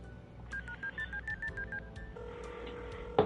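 Phone dialing tones in the video game YiiK: a run of about nine short, evenly spaced keypad beeps, then a sustained steady tone and a brief click at the end, clean and close.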